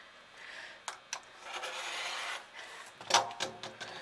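Fabric being trimmed for a rolled pillowcase gives close, soft rasping cuts, with a few sharp clicks and a brief louder snip near the end, and no talking.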